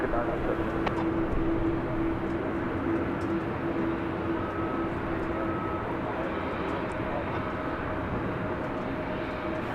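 A large jet taking off at night at Dallas Fort Worth International Airport on runway 18 Left: a steady, distant engine roar with a faint whine, holding evenly across the whole clip, heard from a distance with no nearby sounds.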